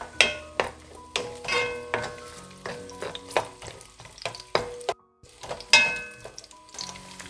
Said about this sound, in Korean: 이렇게 이 마늘을 넣고 볶아 주세요